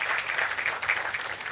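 An audience at the launch of an AAR Healthcare clinic in Lavington claps for a doctor, a brief, moderately loud patter of many hands heard on its own.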